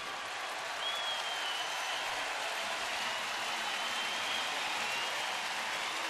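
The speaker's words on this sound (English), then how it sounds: "A hearty round of applause for Danny Salazar" Steady, dense crowd applause fills a big-league ballpark as Cleveland's starting pitcher leaves a game against Detroit, a continuous wash of clapping and crowd noise with no break.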